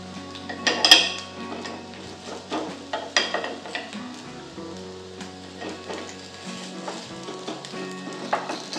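Dhirde, a fasting-day pancake, sizzles steadily as it roasts on a pan, with occasional scrapes and clinks of a spatula against the metal.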